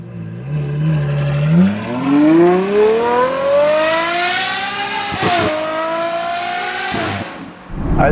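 A Novitec-modified Ferrari 812 N-Largo S with a 6.5-litre naturally aspirated V12 and Novitec exhaust revs hard, its loud wailing note climbing steeply through the gears with sharp shift breaks, close and dominant throughout.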